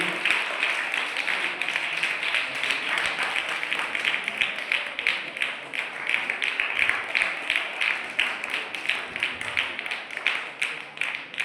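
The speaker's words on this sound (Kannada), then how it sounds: "ಜೋರಾದ ಚಪ್ಪಾಳೆ ಮುಖಾಂತರ ಅವರಿಗೆ ಒಂದು ಗೌರವ ಸಮರ್ಪಿಸುವುದು ಕೇಳ್ಕೊಳ್ತೇನೆ." Sustained applause from an audience at a formal ceremony, a dense steady patter of many hands clapping for the full stretch without a break, close and fairly loud.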